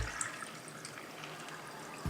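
Water is poured over washed chickpeas in a container to soak them overnight, making a soft, steady trickle and pour at low volume that runs throughout, with a brief louder splash near the end.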